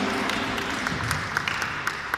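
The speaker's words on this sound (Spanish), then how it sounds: "Les pido un fuerte aplauso para él" Applause from an audience at a dance show in a shopping centre, a dense steady wash of clapping with scattered sharper claps standing out, fairly loud and with no talking over it.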